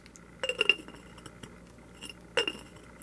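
A glass jar for a wet specimen is handled and set down, giving two sharp clinks about two seconds apart amid faint rattling in a quiet room.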